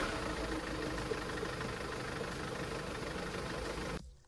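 A Mercedes Sprinter van engine idles in a steady, even mechanical rumble with a low throb, close and continuous for several seconds before cutting off abruptly at the end; no talking.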